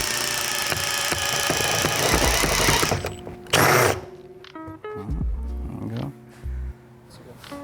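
Screws going into a Vicrez LV4 front splitter on a Mustang, with a dense buzzing power-tool run, then brief bursts and clunks separated by pauses, close and fairly loud.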